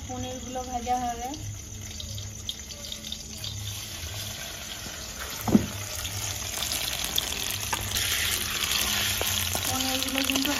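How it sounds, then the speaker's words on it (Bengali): Paneer pieces frying in a pan give a soft, steady sizzle, with a brief tap-like splash midway; voices speak at the start and end, and the hiss grows slightly louder later. "এবার পনিরগুলো ভাজা হবে।"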